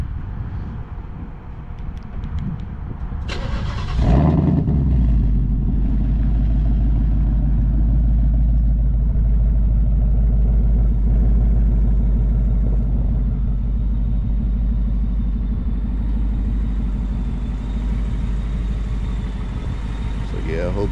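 A stock Ford Mustang GT 5.0 V8 driving at night, its deep engine rumble rising loudly after a few seconds and holding steady while someone talks over it.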